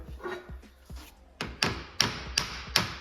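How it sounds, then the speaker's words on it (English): Light metal taps pressing a gear onto a shaft held in a vise, part of a Reversaru gear kit install for a Subaru 4EAT transmission in a VW bus; five sharp taps come in a steady rhythm after some quieter handling noises, close and fairly loud. "Very light tapping."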